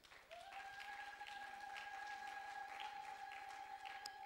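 A church congregation applauds after a sermon reading, steady sustained clapping filling the room with a faint held tone running underneath.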